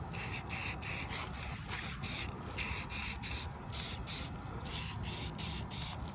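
Satin black spray paint hissing from a rattle can onto a RZR side-by-side, steady close bursts of spray with brief pauses between passes.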